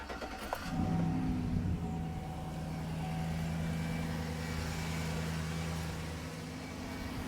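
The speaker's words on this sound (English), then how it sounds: "let's start the truck and we're gonna see how it sounds" A truck engine cranks briefly and fires up, then settles into a steady, close idle with a low rumble; no one talks over it.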